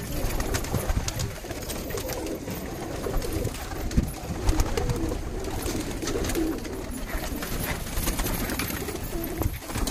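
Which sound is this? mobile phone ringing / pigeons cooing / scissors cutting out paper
pigeons cooing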